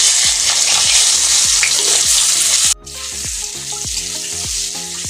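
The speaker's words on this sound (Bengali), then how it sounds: "এখানে যে মাছ ভাজা তেলটা ছিল, সেই তেলে আমি আলুগুলোকে ভেজে নেব" Potatoes fry in leftover fish-frying oil with a steady, loud sizzle, broken by a regular series of soft low thumps from stirring or tossing. The sizzle briefly drops out and then returns slightly quieter.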